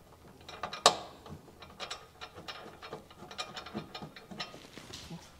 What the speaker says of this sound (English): Now with our 19 millimeter socket, we'll just go ahead and get these snugged down.